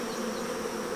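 Honey bees at homemade hive frames drone in a dense, steady buzz that fills the whole moment, close and continuous with no voices.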